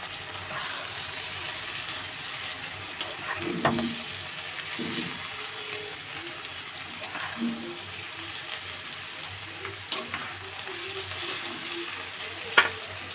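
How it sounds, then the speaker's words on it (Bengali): Chow mein noodles being mixed into softened vegetables in a frying pan, a continuous close sizzle broken by soft scraping stirs and a few light knocks of the spatula against the pan. "এবার আমি এতে চাউমিনগুলোকে মিশিয়ে দেবো। দিয়ে ভালো করে নাড়িয়ে নেব।"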